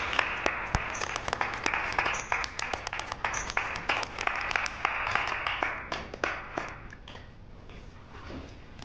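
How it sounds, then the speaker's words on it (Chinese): Group of office colleagues clapping for a coworker in a meeting room, a burst of scattered hand claps that thins out and fades toward the end. "来，让我们一起给甄高贵一点掌声。"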